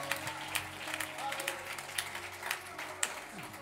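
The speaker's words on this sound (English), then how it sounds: "Let's give the Lord a hand clap of praise" A church congregation claps in praise, scattered hand claps and applause at moderate distance, fairly quiet, mixed with background voices and crowd murmur.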